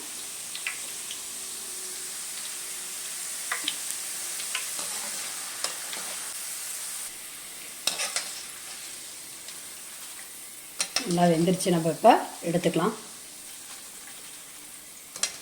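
Tapioca chips fry in hot oil with a soft, steady sizzle, joined by occasional stirring clatter and a burst of louder scraping near the end, while a person speaks briefly.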